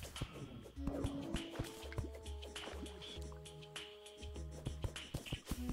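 Water dripping in the Terraria video game, with a handful of distinct drops landing over a background of game music and effects.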